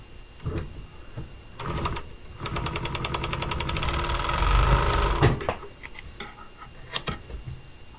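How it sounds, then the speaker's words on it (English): A sewing machine stitches the short end of a fabric strip together, running in a few short bursts and then a longer steady whirring rattle, with clicks and handling noises around it. "So we're going to sew that together."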